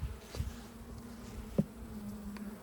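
Honeybees hum in a steady, low drone around a hive during spring hive inspection, with a few light knocks and taps breaking through.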